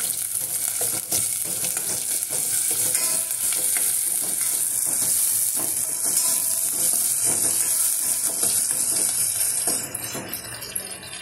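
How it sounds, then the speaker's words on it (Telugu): Ginger and black pepper sizzle steadily in hot oil while being stirred for beetroot rasam, a loud, constant frying hiss with faint scraping, no talking. "చిన్న అల్లం ముక్క, 10 మిరియాలు కందా కింద కలుపుకుని వేసుకోవాలండి. ఇది బాగా వేయించుకోవాలి."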